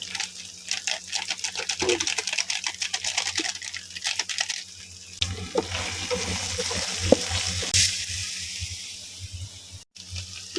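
Pork leg sizzles and crackles steadily in a hot pan while being stirred, with scraping and bubbling textures and brief watery splashes, close and fairly quiet.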